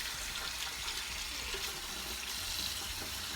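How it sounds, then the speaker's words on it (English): Cold tap water pours steadily into a kitchen sink over pickle slices, a constant close hiss and splash with no pauses and no talking. "we're gonna run cold water on them"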